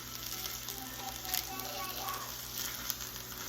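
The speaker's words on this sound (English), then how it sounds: "let this sear" Chicken searing in a pan makes a quiet, continuous sizzle with faint crackles and a few small pops, heard close but low in level, with some voice in the background.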